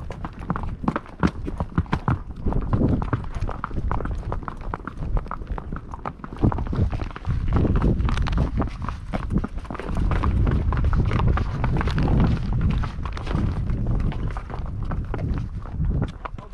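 Horse hooves clop on bare slick rock along a jeep trail, an uneven run of hard, close hoof strikes continuing throughout with light wind noise and no talking.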